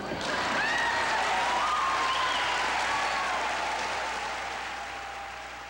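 Parliamentarians applaud at a 1985 UN Decade for Women gathering, a dense, continuous wash of clapping from a large room that slowly fades, with faint tonal sounds over it.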